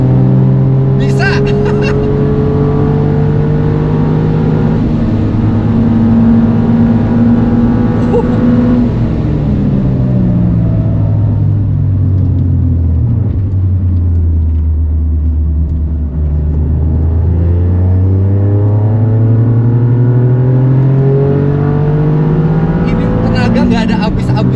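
A Toyota GR Yaris drives hard through a high-speed corner at Mandalika circuit, its loud engine drone rising and falling with the revs, with a voice talking over it at times.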